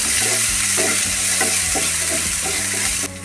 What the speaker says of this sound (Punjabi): ਜੀਰਾ ਤੇ ਜਵੈਣ ਭੁੱਜ ਕੇ ਤਿਆਰ ਹੁਣ ਅਸੀਂ ਇਹਦੇ ਵਿੱਚ ਇੱਕ ਚਮਚਾ ਲਸਣ ਇਹਨੂੰ ਬਰੀਕ ਕੁੱਟ ਲਿਆ ਤੇ ਇੱਕ ਹੀ ਚਮਚਾ ਅਦਰਕ ਇਹ ਪਾਵਾਂਗੇ